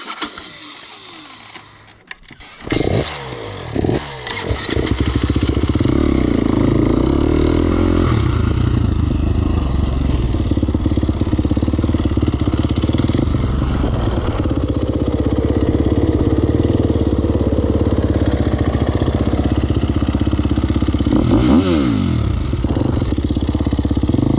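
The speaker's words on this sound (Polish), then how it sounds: "No wszystko nowe, nowy KTM, jedziemy." A new KTM motorcycle at a race track fires up with a few rough clattering bursts, then settles into a loud, continuous close-up engine roar that revs slightly as it rides off.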